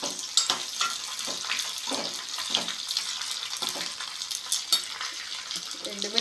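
Dried red chillies and curry leaves sizzling in hot oil for sambar, a close crackling fry with scattered pops and stirring scrapes, moderately quiet and steady throughout.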